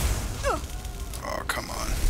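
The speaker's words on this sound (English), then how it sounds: "someone is zapping me here" Magic spells zap in a Skyrim magic-dueling mod: a few short, sparkly rising and falling electric chirps crackle over a steady game ambience, with a brighter burst of zapping near the end.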